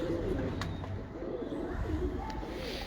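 Breeder pigeons coo in low, repeated rounded calls close by. The calls come in overlapping rhythmic phrases over a steady background hum, and no one speaks.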